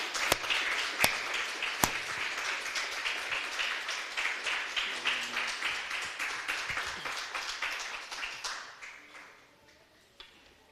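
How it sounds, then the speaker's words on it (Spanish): Church congregation giving a strong round of applause, steady rhythmic clapping that gradually fades out to quiet, a few louder claps near the start. "Vamos a dar un fuerte aplauso mientras el pastor pasa a compartir la palabra."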